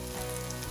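Turmeric powder hits hot coconut oil in a Kerala-style crab roast, giving a steady, close, even sizzle and frying hiss with no talking over it.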